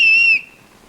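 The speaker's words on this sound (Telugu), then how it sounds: "ఈలు మింగేసావా?" A whistle is blown in one loud, shrill burst of under half a second, then cuts off, leaving quiet room sound with no voices.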